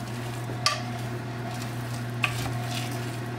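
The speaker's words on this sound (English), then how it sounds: "You're going to stir it and just let it start to melt." Melting soap base is stirred in a pot on the stove, giving a soft continuous bubbling hiss with two brief clinks of a utensil against the pot, close and fairly quiet, with no talk.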